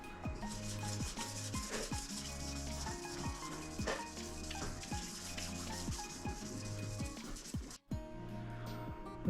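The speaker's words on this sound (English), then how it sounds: "I am going to sand the bottom half of this before I start on it" Hand sanding of a boat hull's bottom half, wetted with Rain-X lubricant: close, rhythmic back-and-forth scraping strokes repeat steadily with a brief pause near the end, and no talk.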